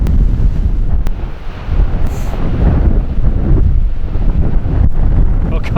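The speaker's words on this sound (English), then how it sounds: "It's really windy. I don't know if you can hear the wind" Strong storm wind buffets the microphone on an exposed seashore at Stoer, with broadband roaring gusts and surf rumbling underneath, loud and continuous throughout.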